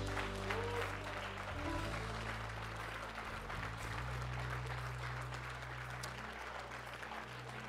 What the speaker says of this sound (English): Cunningham, everybody clap those hands and give the Lord glory